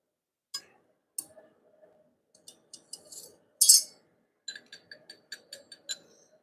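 A chisel clinks and taps on a bootmaking bench in a quiet workshop: sparse, sharp metallic ticks at irregular intervals, one louder scrape in the middle, then a quicker run of light strikes near the end, with no speech.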